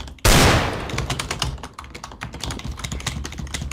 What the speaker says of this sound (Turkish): Abi klavye sesi ne geliyor be?